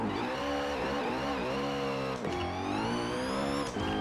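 A Koenigsegg Agera RS in Forza Horizon 4 screams at high speed, its supercharger whine rising steadily in pitch over the engine's loud, continuous roar, with a brief dip around a gear change.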